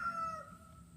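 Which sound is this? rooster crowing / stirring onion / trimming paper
rooster crowing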